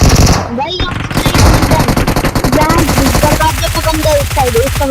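Rapid bursts of UMP submachine gun fire in a mobile battle-royale style game, loud and continuous with fast rhythmic shots, while someone talks over the gunfire.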